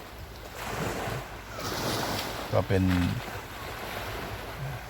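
Sea waves washing steadily onto the shore at Hat Sai Kaeo beach, a continuous surf rush mixed with wind noise, with someone speaking briefly over it partway through.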